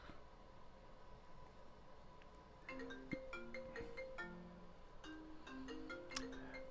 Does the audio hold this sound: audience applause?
no